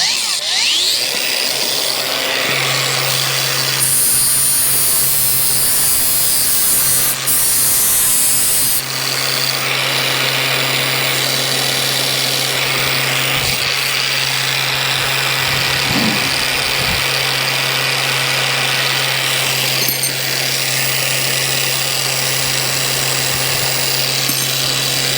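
Petrol-powered cut-off saw starts and runs with a steady loud engine drone while cutting a steel bar at a groundworks site, with a brief high whine and occasional clunks over the continuous motor.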